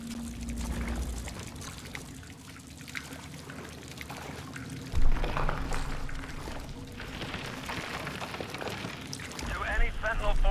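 Water pours and trickles in a Call of Duty: Advanced Warfare level, a close gushing flow that swells and fades among other game sounds, with a voice speaking at times.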